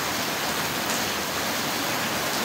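Heavy rain and strong wind from a typhoon roar as a dense, steady wash of loud noise, unbroken and alone throughout.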